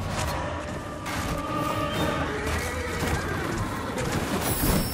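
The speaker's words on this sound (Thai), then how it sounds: "น้องม้า" In the video game Lords of the Fallen, a horse neighs loudly over a busy in-game soundscape. The whinny is accompanied by hoof clatter and crashing combat noise, with no voices.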